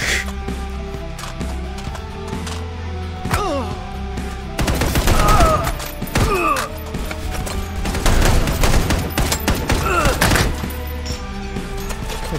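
Gunfire in the VR shooter Hard Bullet: bursts of rapid shots and booming impacts that grow dense and loud halfway through, mixed with thuds and clatter, while a voice is briefly heard.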